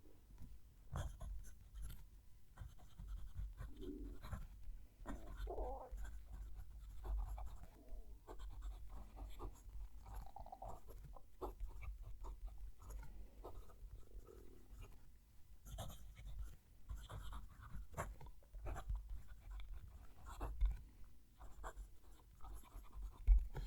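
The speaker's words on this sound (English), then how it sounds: "Let's move the mic and write a sentence." A Wing Sung 630 fountain pen writes a sentence on paper, the nib giving faint, close scratching strokes with brief pauses in a quiet room.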